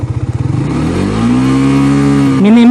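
A Suzuki motorcycle engine revs up from a lumpy idle to a smooth, loud, steady high-pitched drone held at around 7000 RPM, close and alone.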